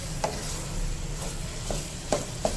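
Beef keema frying in a pan with whole spices and garam masala, a quiet, steady sizzle broken by a few sharp scrapes of a spoon stirring, with no talking.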